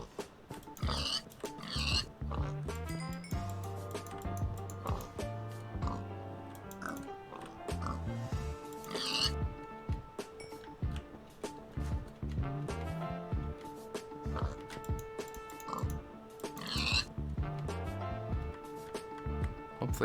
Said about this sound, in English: Oh, pigs.